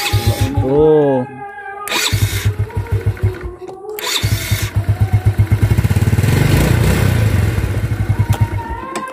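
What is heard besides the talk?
Yamaha Vega ZR motorcycle electric starter test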